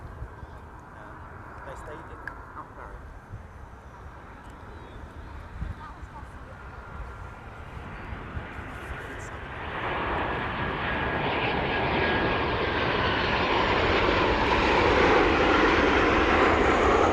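A Ryanair airliner on its landing approach, with a steady jet engine roar that swells and grows louder partway through and holds near and loud, while a voice talks over it early on.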